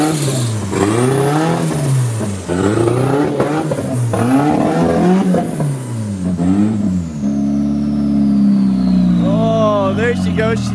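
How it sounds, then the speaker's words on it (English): A Nissan D21 work truck with a swapped S13 engine revs hard in repeated rising and falling sweeps, loud and close, then settles to a steadier higher drone with a whine, and a voice speaks over part of it. "the little work truck sounds this mean?"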